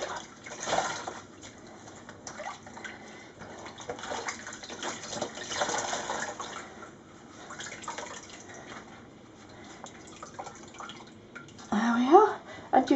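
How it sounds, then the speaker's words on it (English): Dock-dyed wool being rinsed in water, with splashing, dripping and sloshing throughout, mostly under a voice talking over it. "what I'm going to do now is rinse it in water the same temperature as it is at the moment"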